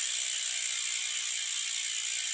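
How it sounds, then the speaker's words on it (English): Bicycle rear wheel with a low-noise LN freehub spinning, giving a steady fast ratchet buzz of pawl clicks, even and unbroken, fairly quiet and close with no talking. "they have this low noise freehub, which marks this as LN. Yeah, so it's not as loud as what they used to."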